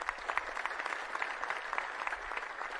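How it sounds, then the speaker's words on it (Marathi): Audience applause at a rally, a steady, dense patter of many hands clapping, sustained evenly and heard from some distance at moderate loudness. "आपण सगळ्या जणांनी जोरदार अशा टाळ्या मारल्या पाहिजे"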